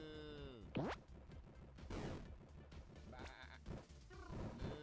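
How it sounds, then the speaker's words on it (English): Sheep bleat several times in the video game Leaf Blower Man, with repeated wavering cries over a busy, steady game soundtrack and effects. "We got cows and sheep helping me out."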